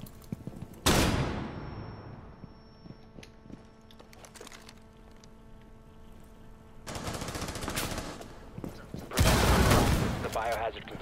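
Bursts of automatic gunfire from the video game Rainbow Six Siege, a loud volley at the start followed by quieter stretches, then two more dense rattling bursts near the end.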